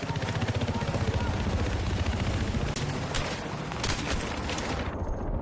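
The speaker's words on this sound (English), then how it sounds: "Spotted a hostile helicopter in your area." A helicopter's rotor thumps steadily in rapid pulses in Battlefield 3 multiplayer on Xbox 360, beneath game noise and occasional bright bursts, loud and continuous throughout.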